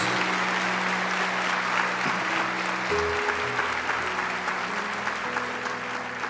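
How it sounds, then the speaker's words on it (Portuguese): A church congregation applauding the word of God, with continuous, full applause throughout and steady sustained tones, likely an organ or keyboard, playing underneath. "Vamos aplaudir poderosamente a palavra de Deus."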